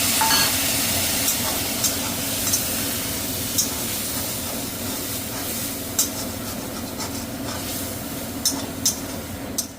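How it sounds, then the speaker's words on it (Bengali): Hot water is splashed into a pan of potatoes cooking in poppy seed paste, bringing a constant, fairly loud sizzle with occasional light clicks and taps. "অল্প একটু গরম জল, যে বাটিটায় পোস্ত বেটে রেখেছিলাম সেই বাটিটারই একটু ধুয়ে গরম জলটা দিলাম।"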